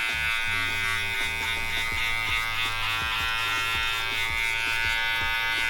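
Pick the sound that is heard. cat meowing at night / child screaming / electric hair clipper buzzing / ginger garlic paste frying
electric hair clipper buzzing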